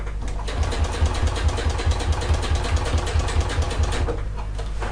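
A sewing machine stitches a wristlet strap for a bag, running steadily for the whole stretch with a rapid, even mechanical chatter and low motor hum, close and fairly loud, with no talking.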